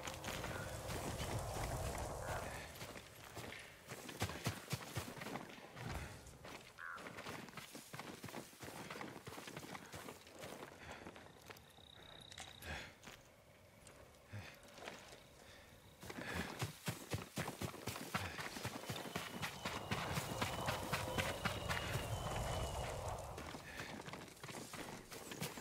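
Horse hooves clip-clop in a steady walking rhythm over the Ghost of Tsushima game soundscape, pausing briefly in the middle before resuming at moderate loudness.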